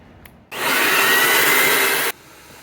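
Compressed air blasting debris out of a pool jet line, a loud steady hiss lasting about a second and a half that starts and stops abruptly, close to the listener.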